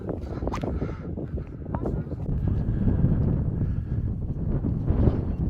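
Strong wind buffets and roars across the microphone without letup atop Durness Head, on Britain's northern mainland coast, with voices faintly talking beneath the gusts.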